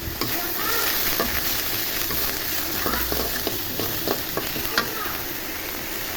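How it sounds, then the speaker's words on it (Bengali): Onion paste fries in a pan for a fish dopiaza, a steady hiss under repeated clicks and scrapes of a spatula stirring it, close and fairly loud with no talking. "পেঁয়াজ বাটা দিয়ে ভেজে দিব কিছুক্ষণ"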